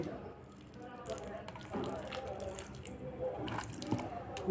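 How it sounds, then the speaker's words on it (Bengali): Water is poured at the base of a newly planted Australian hibiscus seedling in a pot, a soft uneven trickle and splash over soil, with a person talking in the background. "গাছের গোড়ায় ভালো করে জল দিয়ে দেব"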